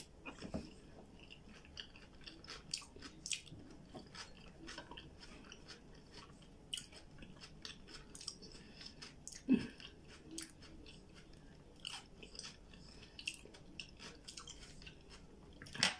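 Close, quiet chewing and crunching of crab stick sushi rolls with cucumber, soft irregular bites and mouth sounds, no talking.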